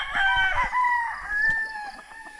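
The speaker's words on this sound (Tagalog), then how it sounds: "Yun mga chicken natin." Chickens on a small farm flock of about forty birds, calling in a close, continuous run of clucks and drawn-out tonal cries, with no one speaking.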